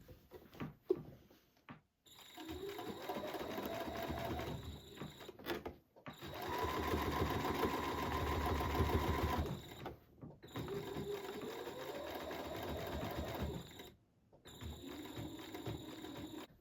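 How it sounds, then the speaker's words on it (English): A sewing machine runs in three long bursts of straight-line machine quilting, its needle mechanism whirring steadily and close, with short pauses between rows. "When I get to the end of my stitching row, I'm going to press the reverse button and just reverse 2 or 3 stitches."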